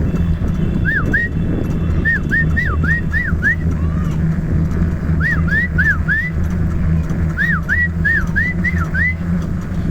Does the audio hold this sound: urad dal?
no